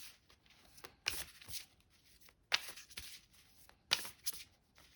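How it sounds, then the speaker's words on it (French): Tarot cards are drawn from a deck. Close, soft papery slides and shuffling are punctuated by three crisp card snaps spaced a second or more apart, with no talking. "je vais prendre 2 autres cartes"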